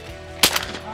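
Single shotgun shot while dove hunting in Argentina: one sharp, loud blast with a short tail against a steady outdoor background, no talking.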